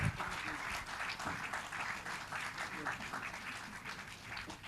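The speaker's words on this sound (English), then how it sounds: "the claps have to be louder" Steady applause from an audience at a felicitation ceremony for doctors at a teen science center in Hyderabad, dense and continuous for several seconds with voices murmuring beneath.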